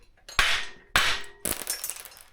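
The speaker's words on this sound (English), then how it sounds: "use a bit of wood and a hammer." A hammer strikes a block of wood held against a motorcycle yoke, three sharp, loud taps spaced about half a second apart, each ringing briefly with a metallic tail, the last followed by rattling clatter.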